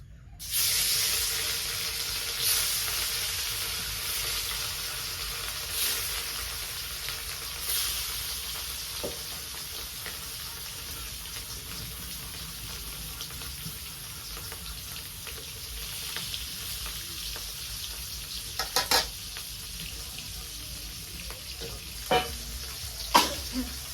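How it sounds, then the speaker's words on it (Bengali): Fish sizzles in hot oil in a kadai wok with a steady, close frying hiss, broken by occasional crackles and spits that grow more frequent near the end. No one speaks. "আমি এখন মাছ ভাজি করুম কড়াইতে তো তেল দিয়ে দিছি তেল গরম হয়ে গেছে"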